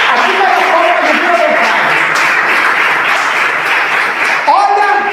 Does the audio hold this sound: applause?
yes